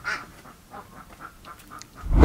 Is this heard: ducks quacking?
yes